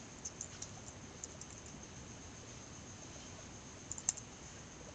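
Light, scattered keystrokes on a computer keyboard as a search query is typed, soft clicks spread irregularly over steady background hiss, fairly faint and without talk.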